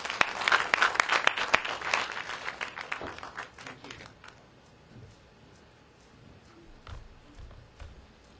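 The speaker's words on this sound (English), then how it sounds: "let's give a big round of applause to our next speaker" Audience applause at a tourism conference session in the Philippines, greeting the Assistant Secretary of the Department of Tourism: dense clapping for about three seconds, then thinning into scattered claps and room noise.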